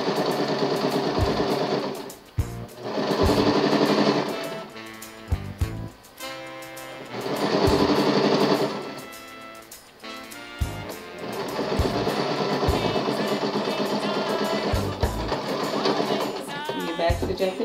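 Sewing machine stitching a 5/8-inch seam on a handkerchief skirt, loud and close, running in several bursts of steady rapid whirring separated by short pauses and clicks.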